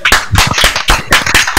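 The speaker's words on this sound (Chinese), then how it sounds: "来，大家给他一些掌声" An audience at a student talent contest claps, a short loud burst of uneven, close-miked hand claps in clustered bursts, with no voices heard.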